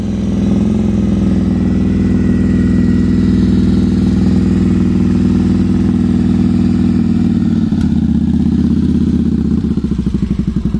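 A Victory Vegas motorcycle with a broken-off gear shift lever runs at a loud, steady idle, its engine throbbing evenly close by, the rhythm turning rougher and more pulsing near the end.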